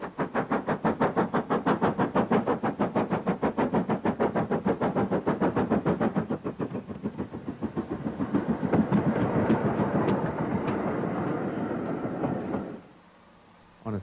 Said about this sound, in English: A regular Severn Valley loco is Hinton Manor, restored in early British Railways black